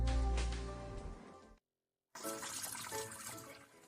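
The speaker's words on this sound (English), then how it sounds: "Wash the amount of radish you want to use and set it aside" Radish being rinsed under a running kitchen tap, with water splashing steadily and close, then a brief silent gap before the flow resumes.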